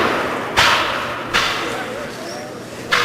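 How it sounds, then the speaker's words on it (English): A cannon fires in direct-fire mode at a battle reenactment, giving three separate sharp booming reports, each followed by a fading rumble, spaced about a second apart. "You now see one of the cannon from the first line angle fire, but they're using it in a direct fire mode today."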